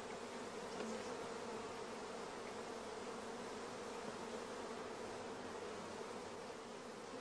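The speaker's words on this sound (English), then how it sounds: "in the queenless starter colony, we can hear the loud buzzing of the orphan bees" Honey bees in a queenless starter colony, their entrance guarded with queen excluder material, give off a loud, steady, unbroken buzz that fills the whole stretch.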